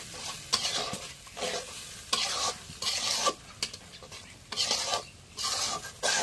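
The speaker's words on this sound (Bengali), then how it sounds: "এখন মশলাটা একটু কষাই নিই।" Spice paste of cumin and garlic with salt is stir-fried in a pan, making loud sizzling bursts and repeated scraping strokes in an irregular rhythm, with no voices.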